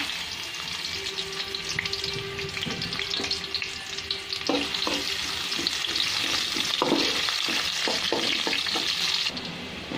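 Onion hits a little hot oil and sizzles steadily, with stirring scrapes and a faint running tap behind it, in a home kitchen where cauliflower is being cooked.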